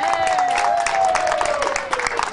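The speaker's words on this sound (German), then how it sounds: "Ein Applaus für unseren Sänger" Crowd applause fills a summer party show in Ludwigshafen as a singer is welcomed: steady, dense clapping close by, with a drawn-out voice or whistle-like tone gliding downward over it throughout.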